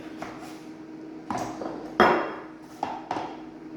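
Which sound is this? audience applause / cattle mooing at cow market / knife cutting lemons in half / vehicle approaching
knife cutting lemons in half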